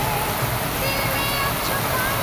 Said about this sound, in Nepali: आज कस्तो छ पानी यार